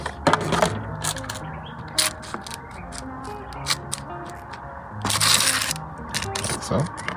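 Date palm pits set one by one onto a paper towel in an old date box, making scattered light taps and clicks under a voice that talks throughout.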